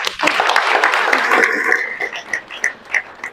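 An audience claps at a devotional dedication-day gathering for a revered didi at a pathshala, a dense burst of applause that thins into scattered, separate claps toward the end.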